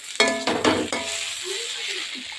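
Food frying in a pan with a few sharp clattering stirs near the start, then a low sizzle that continues steadily and quietly, close by with no talking.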